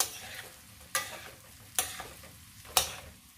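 Chicken and rice stirred in a pot with a spoon, four distinct scraping strokes spaced about a second apart over a faint background sizzle, no voices.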